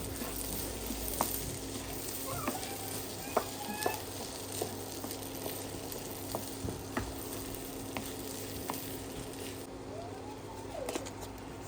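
Chicken sizzling and frying in a pan, stirred with chicken spices and saffron colouring; a steady close crackle runs throughout with occasional scrapes and faint bird chirps in the background.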